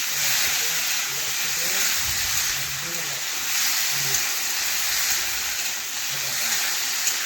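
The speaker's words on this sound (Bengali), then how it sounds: "এই দেখুন এটাও ভালোভাবে মিশিয়ে কষে নেব।" Boiled chickpeas and fried potatoes sautéing in a pan for a chana paneer dish, a loud continuous steamy sizzle close up with faint stirring bumps and no talking.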